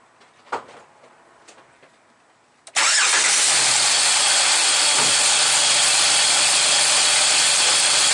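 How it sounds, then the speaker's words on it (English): A 2007 Jeep Wrangler engine cranks and catches with a sudden loud start, then settles into a steady, loud, broadband roar that holds to the end, following a quieter stretch of light handling noises. "you really need the engine running, so I'm going to start it"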